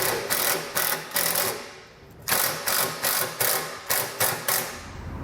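A self-tapping screw is driven into a pre-drilled hole in a 2018 Dodge Journey while a trailer wiring harness is installed, with a loud, close rhythmic ratcheting buzz in about nine even bursts and a short pause midway.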